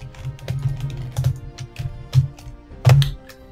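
A PC computer keyboard is struck in uneven bursts of clacky keypresses while playing Fallout 4, the taps close and fairly loud with a low background hum.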